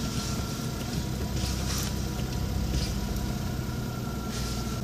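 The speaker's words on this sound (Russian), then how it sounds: "для начала необходимо завести двигатель" The small engine of a Daewoo Matiz 0.8L-1.0L with manual gearbox idles just after starting, giving a steady, even hum with no talk over it.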